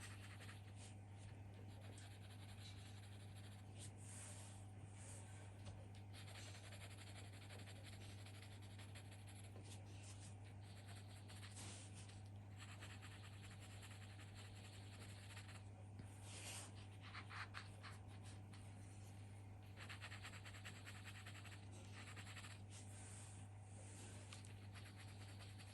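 Prismacolor colored pencils, soft and layered, scratching and rubbing across paper in steady repeated strokes, close and quiet, with no talking over a constant low hum.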